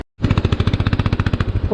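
A motorcycle engine sputters with water in its air filter after the bike tipped over on a Nepal ride. A brief silence gives way to loud, close, rhythmic chugging pulses that run unevenly to the end.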